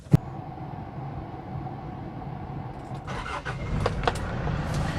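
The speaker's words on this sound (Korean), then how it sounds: "시동 한번 걸어 볼게요" A Hyundai Porter 2 CRDI long-wheelbase automatic truck, about ten years old, is started. A brief crank gives way to a steady diesel idle, and the engine picks up slightly near the end, with no talking.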